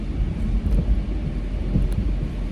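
Rain drums on a car during a morning drive near Route 80 in Paterson and Elmwood Park, New Jersey, heard as a steady heavy wash over a low rumbling road and engine drone.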